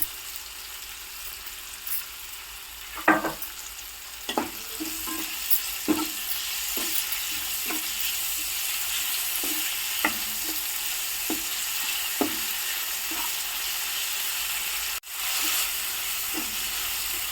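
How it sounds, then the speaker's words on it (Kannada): Onions fry in a hot pan for a spicy green chicken dish, a continuous close sizzle broken by regular scraping and tapping strokes of a spoon stirring them, with one brief dropout near the end. "ಚೆನ್ನಾಗಿ ಫ್ರೈ ಮಾಡ್ಕೊಳ್ಳಿ. ಈರುಳ್ಳಿದು ಹಸಿ ವಾಸನೆ ಎಲ್ಲ ಹೋಗಬೇಕು."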